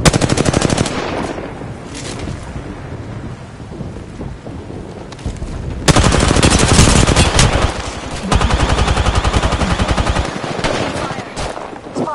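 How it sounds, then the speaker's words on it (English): Rapid bursts of gunfire in the video game Apex Legends, loud and dense, with heavy automatic volleys that come and go over a rumbling battle backdrop, strongest in the second half. "They're shooting at me."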